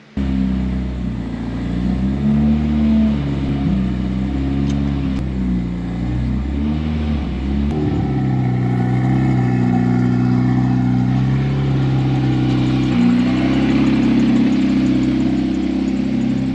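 A turbocharged Honda S2000 engine runs steadily and smoothly at a close, loud idle for the whole stretch, with a brief blip of revs partway through and no talking.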